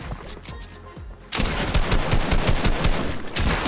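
Gunfire in a video game played on a PS5 controller. A few scattered shots give way to dense, rapid automatic fire, loud and close, with no talking.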